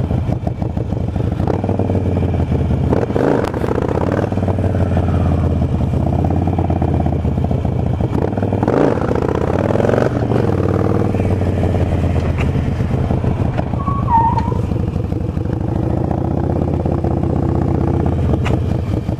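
A motorcycle engine runs steadily during wheelie practice, a loud continuous drone with faint rising revs and some clatter, heard alone without talk.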